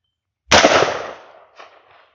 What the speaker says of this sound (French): Et on va tirer une perforante sur le métal